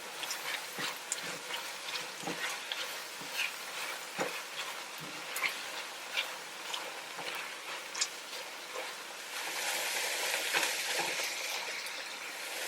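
Chopped medium onion hits melted butter in a pan for stuffing, giving a soft sizzle broken by scraping stirs, with the frying swelling louder near the end.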